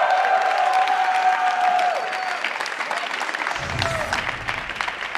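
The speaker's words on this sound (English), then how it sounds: "A little applause here for EG," Audience applause for the winning Evil Geniuses esports team at a North American League match, a steady crowd clatter with some cheering, loud and sustained, thinning slightly partway through.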